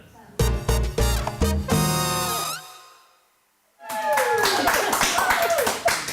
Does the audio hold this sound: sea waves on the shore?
no